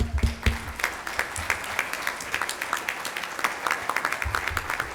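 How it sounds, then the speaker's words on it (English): Audience applause fills a breakfast networking event, a dense burst of clapping that runs steadily for several seconds with a few louder peaks near the start. "big round of applause for Justin Merritt."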